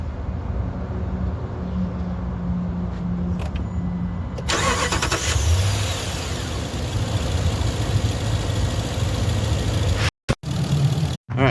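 A 2021 RAM 1500 pickup truck's engine cranks and catches about four seconds in, then settles into a loud, steady idle close by, with a few abrupt dropouts near the end.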